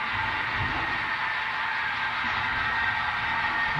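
EMD DD35A and DD35B diesel locomotives rumble in a steady, loud drone with a constant engine hum that stays even throughout, without a break and with no voices.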